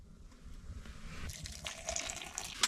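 Boiling water poured into a water bottle to thaw it outdoors, a faint steady trickle that swells into a brighter gush as it fills, heard alone and close.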